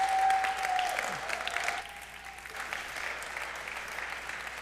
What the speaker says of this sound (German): mit einem warmen Applaus willkommen zu heißen